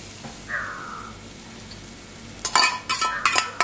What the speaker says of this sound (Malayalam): നമുക്ക് തേങ്ങ നന്നായിട്ടൊന്ന് വറുത്ത് കോരണം